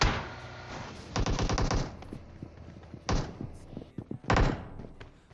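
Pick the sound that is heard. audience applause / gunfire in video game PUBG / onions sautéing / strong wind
gunfire in video game PUBG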